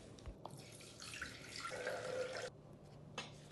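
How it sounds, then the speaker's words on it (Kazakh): Water pours into a Thermomix bowl while baguette dough is being prepared, a soft splashing trickle that swells and then stops partway through, with a few small drips and clinks before and after. "Ол үшін термомикс чашасына су құямыз."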